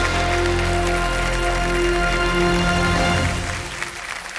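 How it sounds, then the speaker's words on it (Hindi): Sustained applause from a studio audience greets a teacher from Mumbai joining a televised quiz show, a dense steady patter under musical tones that holds loud for about three seconds before easing off. "तालियों के साथ उनका स्वागत"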